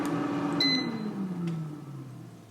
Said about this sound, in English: I'm going to turn off the air fryer.